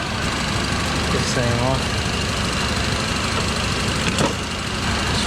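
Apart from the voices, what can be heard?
1978 Ford F100 V8 engine idling after Holley Sniper EFI install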